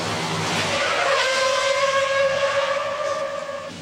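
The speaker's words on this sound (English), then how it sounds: "On action, all the cars and stunt cars go." Stunt cars roar through a street scene staged for the film Die Hard with a Vengeance, a loud engine-and-tire wash with a sustained screeching skid tone across several seconds and no talk.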